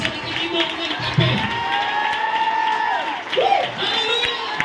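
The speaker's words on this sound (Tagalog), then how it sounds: "Clap your hands to the Lord one more time." A church congregation at a Sunday revival service claps and cheers together, with whoops and shouts over the clapping at moderate distance, and a voice rising above the crowd.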